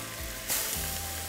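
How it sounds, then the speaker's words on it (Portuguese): Seasoned chicken tenderloin, cut into large cubes, sizzles and fries steadily in a pan, a soft continuous crackle with a brief louder burst near the middle and no talking. "estou colocando para fritar bem fritinho 1 quilo. De sassame cortado em cubos grandes."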